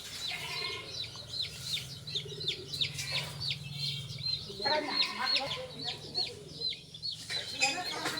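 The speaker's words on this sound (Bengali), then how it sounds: "ব্রয়লার মুরগির বাচ্চা।" Broiler chicken chicks cheep in high, repeated peeps, with a low hum and some clucking or rustling beneath them, fairly close.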